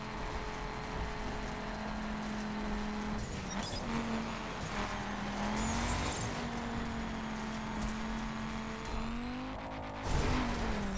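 A Ford Focus RS in rally/raid spec drives in the video game The Crew, its engine a steady drone with gear-shift rises and a sharper surge near the end, alone with no talk.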